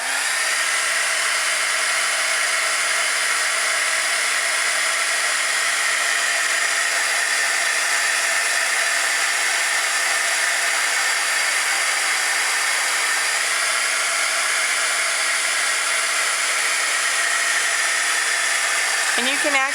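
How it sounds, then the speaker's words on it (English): A handheld heat tool blowing hot air to dry Mod Podge over tissue paper, a loud continuous whirring hiss held steady and close for the whole stretch before cutting off at the end. "you're going to take your heating tool and you're going to dry that"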